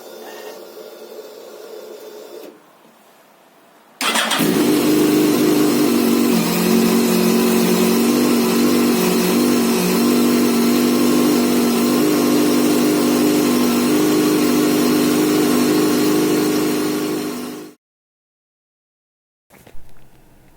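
A motorcycle engine, just reassembled with a new rotor, shifter and filter fitted, fires up after a brief quieter spell. It settles into a loud, steady idle with a slight rise in pitch, then cuts off abruptly, leaving only a faint sound afterwards.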